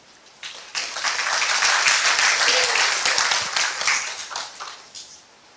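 An audience breaks into applause after a scientific talk on sleep recordings and motion capture, with a dense wash of clapping that swells to a steady, loud peak and then thins out toward the end.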